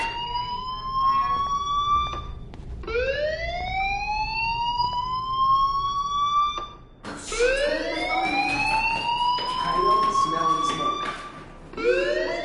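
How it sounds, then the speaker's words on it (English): A loud electronic fire alarm in the video game Life is Strange whoops in repeated rising sweeps, each tone climbing steeply and then cutting off before the next begins. "do you hear that fire alarm? That means you should be outside."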